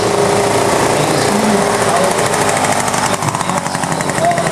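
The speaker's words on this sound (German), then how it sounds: "kopfgesteuerter 350 Kubik Einzylinder Motor" A 1927 LSU 350cc single-cylinder overhead-valve engine racing at a vintage hill race, a loud, close, continuous rasping drone that holds steady throughout.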